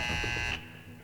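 A buzzer sounds in a volleyball gym at a 2005 NCAA women's championship match, Washington versus Nebraska: a loud, steady electronic tone that cuts off after about half a second, leaving the hum of the arena.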